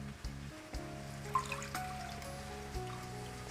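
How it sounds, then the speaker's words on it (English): Water pours and trickles into a vessel while paruppu rasam is being prepared, with small splashes and clinks over a steady low hum in the kitchen. "Now again we'll add some water to it."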